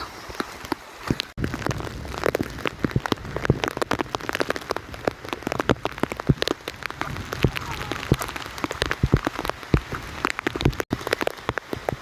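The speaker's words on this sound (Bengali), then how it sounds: "বৃষ্টি আরও জোরে পড়ছে" Heavy village rain pours down, drops pattering densely and loudly on a nearby surface in a steady, unbroken stream.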